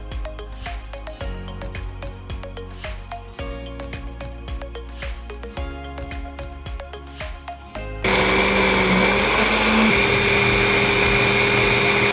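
A kitchen blender whirs as it blends pineapple chunks with pineapple juice, a loud steady motor drone near the mic that jumps to an even louder, harsher roar partway through.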